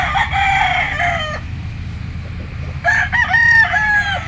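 Gamefowl roosters crow loudly and close by in two separate long, wavering calls, the first lasting over a second and the second starting near the end, with a steady low background hum between them.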